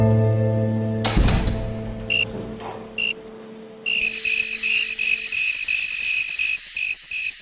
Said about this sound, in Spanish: cada grillo, al responder al chirrido de otro grillo, cambiara su sonido en forma de constante